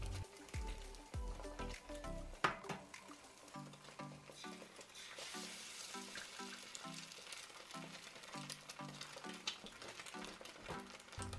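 Food fries in a Shein four-section frying pan, a steady, fairly quiet sizzle with crackles and small pops, broken by repeated clinks and scrapes of a utensil against the pan.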